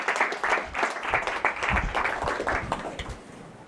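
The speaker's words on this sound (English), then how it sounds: "Let's give a big round of applause." Applause from a demo day audience at a startup accelerator event, a few seconds of moderate clapping that fades toward the end.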